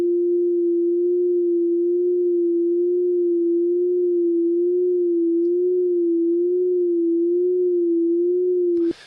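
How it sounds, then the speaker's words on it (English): A steady pure sine tone passed through a chorus effect holds a single pitch with a subtle, slow wavering shift in pitch throughout, cutting off sharply at the end. "putting a sine wave through a chorus device. And then we'll see how it's changing the pitch of the sine wave"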